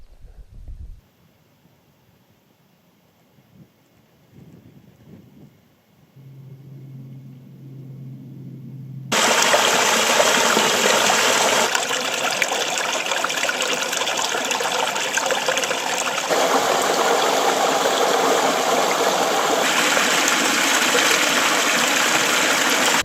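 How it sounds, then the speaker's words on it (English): Trickle of the Trassey River in the Mourne Mountains during a dry spring, starting from near silence with a brief low hum, then a loud, steady broadband rush of flowing water close by for the rest of the clip, with no talk. "I'm walking up along the Trassey River, and it's just a trickle pretty much"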